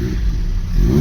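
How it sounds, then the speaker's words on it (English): A Vauxhall Omega car idles and revs on a driveway, with a steady, close, loud engine rumble and a slight swell toward the end. "I'm just going to fire the Omega on the drive."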